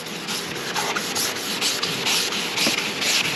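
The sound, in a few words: sanding a car headlight by hand, left to right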